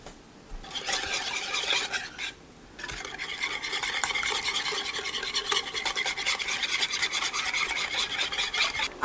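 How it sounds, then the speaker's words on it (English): Pumpkin pie filling being mixed in a bowl, heard as a steady, close, continuous scraping and stirring rasp with a brief pause near the start, then rhythmic, unbroken whisking with no voices. "Now we're just going to mix everything together."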